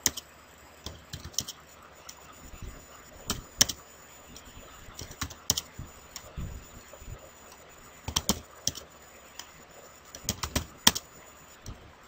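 Keys tap on a computer keyboard during data entry in library software, irregular clusters of quiet, close clicks separated by short pauses.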